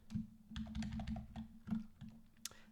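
Rapid computer keyboard typing, a quick run of close, crisp key clicks in an uneven rhythm with short pauses and one sharper tap near the end, no voices.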